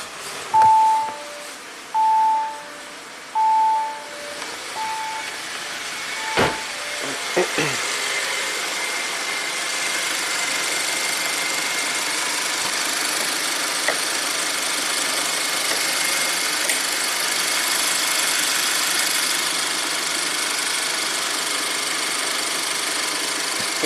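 A 2017 Audi Q7 with a turbo engine cranks and fires, then settles into a steady idle hum. Chimes are heard at the start, and a few clicks follow before the long even idle.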